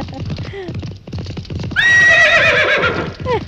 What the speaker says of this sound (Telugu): నీ అరుపు రేసు గుర్రం సకిలింపులా వినిపించిందిరా